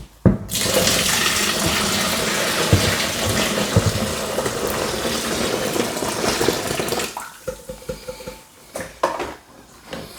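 Just-boiled water poured into a fermenting vessel for a lager homebrew kit, a loud continuous splashing gush that lasts most of the time, then tapers into a few smaller trickles and drips.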